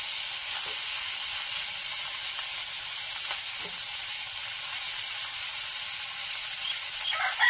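Okra sizzles in a hot pan with an even, hissing crackle that holds steady throughout. A couple of faint clicks from stirring sit underneath.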